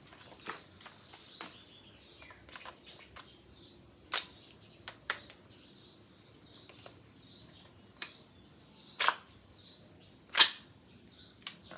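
A gas blowback MK18 MOD.1 airsoft rifle fires a string of semi-auto shots, each a sharp, dry crack with a brief metallic snap, spaced irregularly over several seconds against a quiet background.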